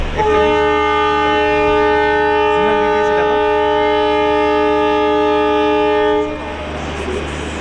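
The 11010 Sinhgad Express sounds a long, loud, steady horn blast at a station halt on the Pune to Mumbai route, holding for about six seconds before it cuts off into rumbling station and train background noise.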